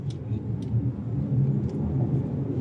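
A BYD electric SUV accelerating, heard from inside the cabin as a steady low rumble of road and motor noise with no engine roar, constant and moderately loud throughout.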